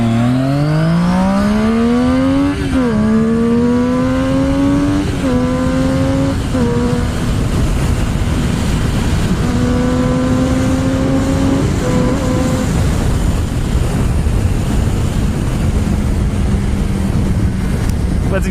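A Triumph Daytona 675 motorcycle engine roars loudly up close, revving repeatedly in rising sweeps, then settling into a sustained rough drone.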